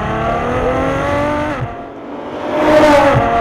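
A 2013 Ferrari F12 Berlinetta engine snarls and growls up through the revs with intake growl, easing off briefly, then surging again with a raspy, rising exhaust roar.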